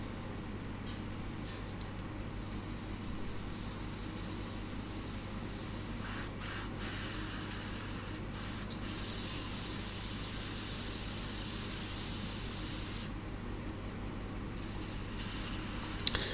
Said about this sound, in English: use the air compressor pen again to blow away or dry out any of the excess essence